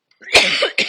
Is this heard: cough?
yes